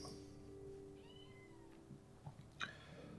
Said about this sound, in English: There's a whinging kitten outside.